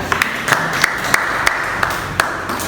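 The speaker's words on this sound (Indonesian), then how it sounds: "Aplaus untuk semuanya." Scattered hand claps from a classroom of students, a few sharp claps spaced roughly evenly over a few seconds rather than sustained applause.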